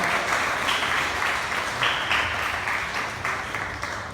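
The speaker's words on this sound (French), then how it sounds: "Pendant que vous applaudissiez très fort notre conférencier" An audience applauds a guest speaker at an evening gathering, a steady wash of many hands clapping that holds throughout and fades slightly toward the end, with no distinct talking.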